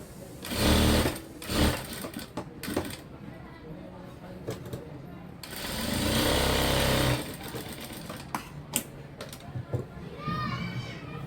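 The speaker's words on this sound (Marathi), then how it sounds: "म्हणजे अशा रीतीने ह्या टक्सवरती पूर्ण शिलाई करून घ्यायची आहे" A sewing machine stitches along tucks on fabric in bursts of loud whirring, with pauses and small clicks between runs and faint background activity.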